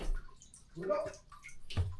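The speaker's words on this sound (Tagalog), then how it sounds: "Parang malakas ang tulo." Water trickles and drips from a leak in a wooden boat with rotted sections, under people talking nearby.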